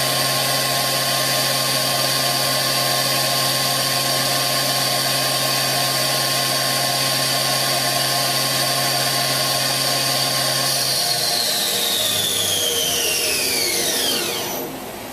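The spindle of a Daewoo DMV5025-50 CNC vertical mill, rated 8,000 RPM, whines steadily at a high pitch with sharp tones, then winds down near the end, loud and close with no voices.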